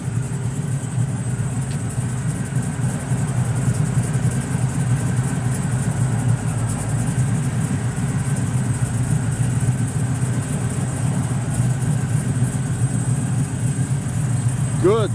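A 1969 Chevrolet Camaro SS with a big-block V8, an aggressive camshaft and MagnaFlow exhaust idles with a steady, deep, loping rumble that holds evenly and close throughout.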